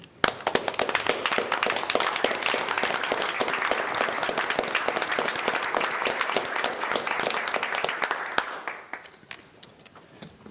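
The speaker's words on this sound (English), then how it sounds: "Let's stand and give her a hand if we could." A room of people at a county commissioners' meeting rise and applaud, dense sustained clapping for about eight seconds before it tapers off to scattered claps.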